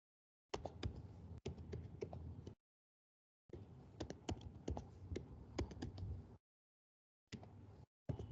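Computer keyboard keys clatter as text is typed into a file, in bursts of rapid close clicks separated by short silences, with no talking.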